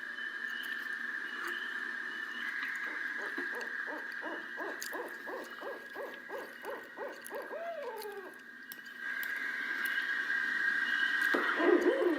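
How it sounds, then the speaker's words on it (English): A barred owl's monkey hoot call: a rapid series of hooting calls, about a dozen evenly spaced notes ending in a wavering trill, heard over a steady background hum. "Next is a monkey hoot."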